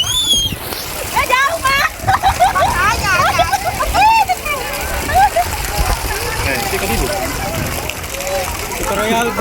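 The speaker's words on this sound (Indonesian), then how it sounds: "Tutorial berenang di laut" Splashing and sloshing water as people swim in the sea at Punagaan Beach, Selayar, up close and continuous, with lively voices and children talking and calling over it.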